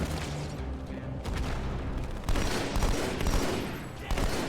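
Dense suppressing gunfire in the Halo 2 video game, a continuous loud barrage of overlapping shots and bursts with heavier booms layered in, sustained throughout.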